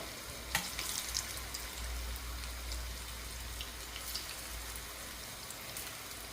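Chicken pieces fry in oil over a low flame for a Sri Lankan chicken devilled dish, giving a soft, continuous crackling sizzle with a few faint pops and scattered light clinks, and no talk.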